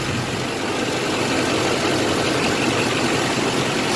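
A Chevrolet Duramax LBZ diesel pickup with an MBRP turbo-back exhaust idles steadily, a low, even rumble with a faint whir. It is quiet and smooth throughout, with no talking over it.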